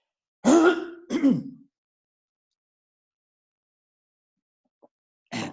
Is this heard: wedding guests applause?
no